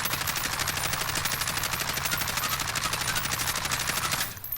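Sustained rapid automatic fire from a Kilo assault rifle, mounted, in the shooter game Warzone, a dense unbroken rattle of shots running for about four seconds before cutting off abruptly.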